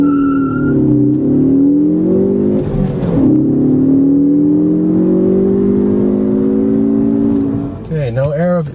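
A 2013 Ford Focus ST accelerating hard from 0 to 60: a loud, steady engine drone climbs in pitch through the gears with a brief shift break, heard from inside the car with speech present.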